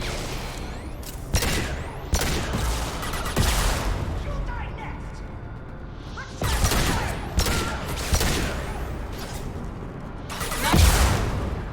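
Gunfire in Mass Effect 2 combat, repeated sharp loud shots and short volleys in clusters, with booming impacts and a steady background of game noise between bursts.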